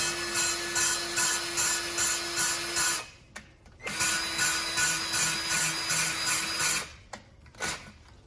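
A rhythmic, gritty back-and-forth rubbing as an engine valve is lapped against its seat in a cylinder head from a 6-litre LS engine, steady strokes for about three seconds, a brief pause, then more strokes, close and alone.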